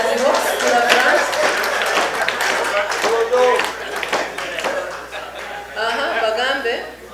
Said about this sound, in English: Please clap for him to give him courage as he walks to the front.